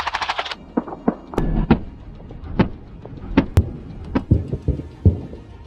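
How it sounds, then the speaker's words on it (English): A Bradley fighting vehicle fires its Bushmaster cannon in combat near Avdiivka, sharp loud reports coming singly and in short bursts at irregular intervals, some distant, some close. "Look how good the Bushmaster cannon is."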